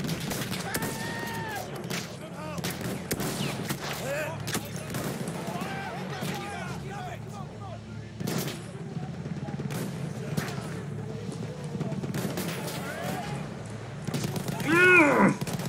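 Sharp bursts of gunfire in the video game Battlefield 1 crack repeatedly over a low rumbling background, scattered through the stretch, with a voice talking at points.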